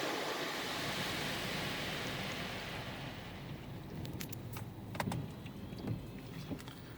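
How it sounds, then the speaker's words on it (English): Inside a Chevrolet Spark in an automatic car wash, a broad, steady rush of rinse water sprays over the car, easing later as scattered drips and taps strike the body and glass. "I believe now we're getting rinsed off."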